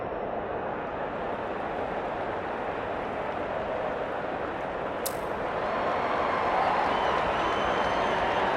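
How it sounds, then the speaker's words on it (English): Stadium crowd in the AFL 23 video game at an AFL Grand Final, Sydney vs Brisbane, a steady dense roar of many voices that swells slightly toward the end, loud and continuous, with no talk over it. "The crowd already making plenty of noise as the captains come together."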